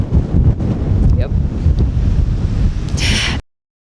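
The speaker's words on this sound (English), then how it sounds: "It is a little bit windy today" Strong wind buffets the microphone by the sea in Lofoten, Norway, a loud rumbling gusty roar that runs continuously, then a brief hiss before it cuts off abruptly.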